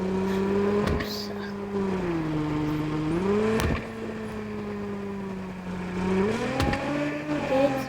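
Car engine drone from the Car Parking Multiplayer driving game, a steady tonal hum that rises and falls with shifts in pitch, continuous throughout with a few sharp clicks, while people talk over it.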